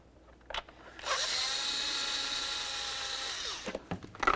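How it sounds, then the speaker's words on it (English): A power tool with an 8mm socket spins out a bolt on a 1999-2003 Chevy Silverado, one steady whirring run of about two and a half seconds between brief clicks and handling noises, close and fairly quiet. "Use your 8mm socket and remove this bolt."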